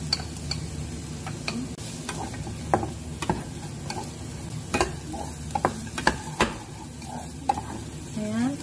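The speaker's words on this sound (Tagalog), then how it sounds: "Igisa din natin sa tabi ang bawang, sibuyas, luya, at saka sili." Garlic, onion, ginger and chili sauté in a pan beside rendered pork fat, sizzling steadily while a utensil stirs and scrapes in irregular clicks and knocks, with a few faint background sounds.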